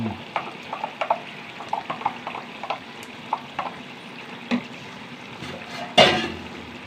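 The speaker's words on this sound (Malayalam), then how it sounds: "ഒന്ന് തിളക്കട്ടെ നന്നായിട്ട്" A spoon taps and scrapes around a pot of curry simmering with ground coconut and chili paste in a quiet, uneven rhythm, ending with a louder clatter and hiss.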